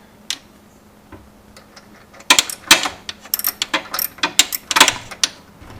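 A socket wrench ratchets on the brake cable bolt of a Billy Goat mower, with a faint click early on and then a close, busy run of sharp, uneven ratcheting clicks.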